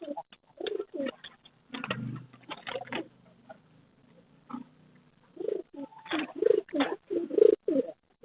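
A black saddle frill pigeon breeder pair at a bird market coos in repeated deep, throaty phrases, close and clear, with short gaps and a faint low rumble between calls.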